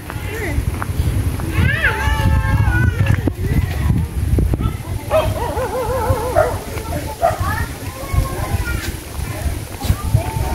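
Dogs at a house during a visit, yipping and whimpering in bursts over rustling movement, with people talking nearby.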